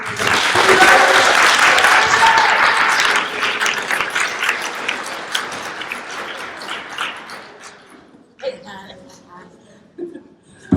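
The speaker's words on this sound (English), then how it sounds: "So give them a big round of applause." Audience applause at a women in STEAM leadership conference, a loud roomful of clapping that tapers off over several seconds, followed by a few scattered claps and brief voices near the end.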